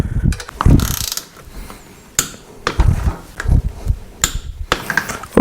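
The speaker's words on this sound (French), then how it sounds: "je vais m'aider du cliquet pour commencer" Ratchet clicking while tightening engine bolts on a Suzuki GSX-R 1000 K9 during an engine block swap: several bursts of close, sharp mechanical clicks and pawl rattles with short pauses between them, no voices.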